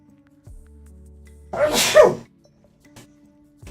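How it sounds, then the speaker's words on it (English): A single sharp human sneeze bursts out at close range after a faint quiet lead-in, followed by near silence. "I'm gonna sneeze."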